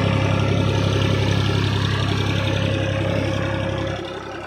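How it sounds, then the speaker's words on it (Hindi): A brick-making machine driven by a tractor runs loud and close, a dense, steady mechanical engine drone with a constant low hum that drops in level near the end. "ये हमारी मशीन BKT इंटरप्राइजेस, ये इस तरीके से ट्रैक्टर से चल रही है।"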